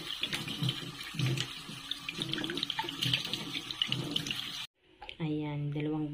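Water running steadily from a kitchen tap while peperomia leaves are washed under it, with splashes and dull knocks in the stream, before it cuts off and someone speaks.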